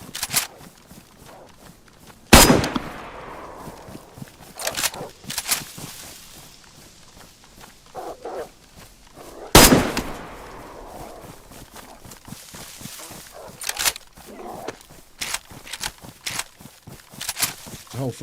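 Unsuppressed gunshots in vanilla DayZ, two loud, sharp blasts with decaying echoes several seconds apart, surrounded by a steady patter of footsteps and quieter scattered knocks.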